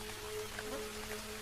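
Rain falling in a Madagascar forest makes a soft, steady hiss of patter that stays faint and even throughout, with no voices.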